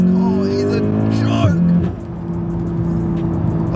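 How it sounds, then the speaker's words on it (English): A four-wheel-drive car launches hard with heavy wheel spin during a timed acceleration run, its engine roaring loud and close as the tires squeal, then the note drops away into a lower steady drone. "there is a lot of wheel spin there"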